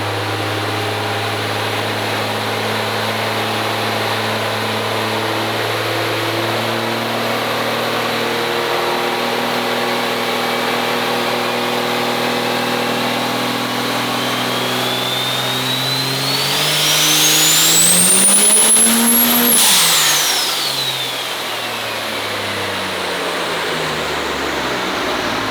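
An 1800-horsepower Cummins-swapped OBS Ford truck roars on a dyno, its diesel engine droning steadily, then climbing in pitch to a loud, screaming peak near the end before falling away, with no talk over it.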